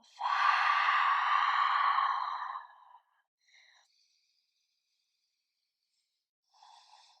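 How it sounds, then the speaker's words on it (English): A long, breathy exhale through the mouth during a yoga breathing exercise lasts about three seconds, close and clear, followed by near silence and a couple of faint soft breaths. "And exhale through the mouth."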